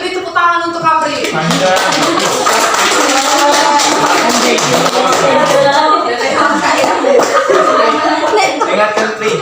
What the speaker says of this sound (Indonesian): Beri tepuk tangan untuk Apri.